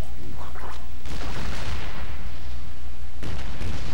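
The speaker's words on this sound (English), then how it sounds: "See, they'll shoot at each other." Gunfire from units fighting in the StarCraft II video game, heard as loud, dense bursts of battle noise with booming shots that run almost continuously.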